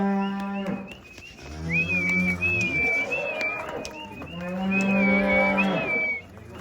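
Cows and bulls on a farm gathered for an annual TB test, mooing in long, loud, nearby calls that overlap one another, with birds faintly chirping in the background.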